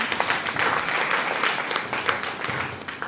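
A crowd bursts into loud, dense applause, many hands clapping at once in a sustained roar.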